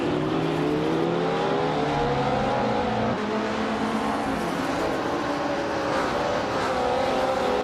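Vintage race cars, including ultralights, Group 2 cars and a Porsche 909 Bergspider, race in a video game around the tight corners of Abyss West, with several engines droning and whining loudly and continuously in overlapping pitches.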